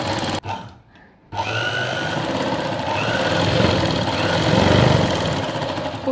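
A sewing machine runs steadily over several seconds, stitching a piece of cloth laid on lining with a hemming strip on top, its mechanical whir close and continuous after a short pause near the start.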